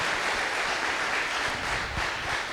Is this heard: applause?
yes